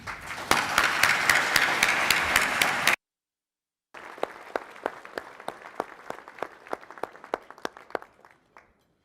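An audience applauds to welcome Bank of Canada Governor Tiff Macklem before a public address, steady clapping from a mid-sized room that stops abruptly, then a second round of lighter, sparser claps fading out.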